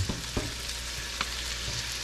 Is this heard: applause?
no